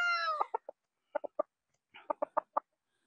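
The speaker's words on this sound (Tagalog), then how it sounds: "Mukhang madungi sila. Pero napakagagandang manok." Chickens cluck in short, sharp bursts, in two quick clusters of three to five, close by after a brief drawn-out call at the start.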